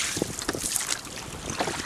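A sailboat heads out of Samaná Bay in the Dominican Republic, with wind buffeting the microphone and water rushing against the hull in brief, uneven gusts.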